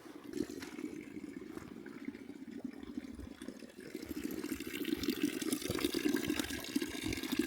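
A trout stream in Bulgaria's Balkan forests flows steadily with a continuous rushing burble, gradually growing a little louder, heard at a moderate distance with no voices.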